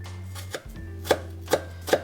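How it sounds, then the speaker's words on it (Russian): A large onion is finely chopped with a knife for a pie filling: four crisp blade strikes on a board, the last three in a quick, even rhythm, over a low steady hum. No one speaks. "1 крупную луковицу нарежем мелко."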